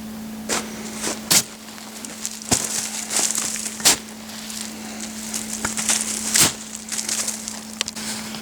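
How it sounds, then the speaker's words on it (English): A fork picking at rotten, decomposing maize silage on a farm clamp, giving repeated crisp crunching and rustling bursts at irregular intervals over a steady low hum, fairly close. "I'll get a fork and I'll just pick off a bit and show you."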